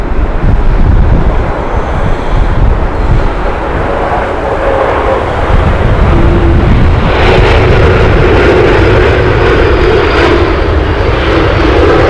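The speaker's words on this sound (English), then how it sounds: "This is Air France Airbus A220 Paris Charles de Gaulle flight." An arriving Air France Airbus A220 at Heathrow produces a loud, continuous jet engine roar with heavy wind buffeting on the microphone, and no talking.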